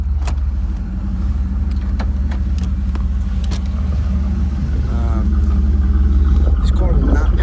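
Third-generation Trans Am with a cammed V8 idling after starting, a steady deep rumble with a choppy lope that swells slightly toward the end, a voice talking over it.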